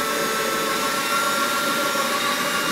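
A floor polisher runs steadily over old came lead in stained glass work, giving a continuous, loud whirring hum with no breaks for the whole stretch.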